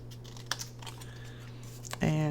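Scissors snip through fabric scraps for stacked banner tucks in a few short, crisp cuts up close, with a voice starting at the end.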